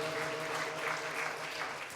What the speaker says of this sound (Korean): 박수를 드리겠습니다